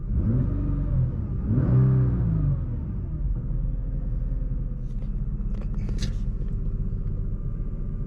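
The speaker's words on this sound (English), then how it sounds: "Listen to the exhaust." A 2020 Nissan GT-R exhaust revs up with a deep, throaty roar, then settles into a steady low idle rumble.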